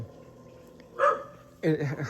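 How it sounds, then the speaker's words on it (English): A dog barks twice, two sharp loud barks about half a second apart, close by in an outdoor setting among French broom and other invasive plants, with low background noise between the barks. "I'm gonna have to continue the video while the dog barks at me"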